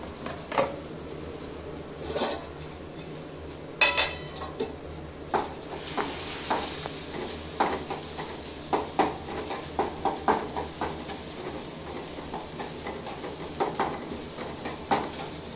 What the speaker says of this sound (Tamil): இப்போ இதில் சின்ன வெங்காயத்தை போட்டுருவோம் சின்ன வெங்காயம் வதங்கட்டும்